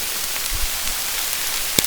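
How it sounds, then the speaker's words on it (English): Hard rain falls steadily outdoors in heathland woodland, a dense, even hiss of drops throughout, with a brief sharper tap or splash near the end and no voices. "It's raining very hard"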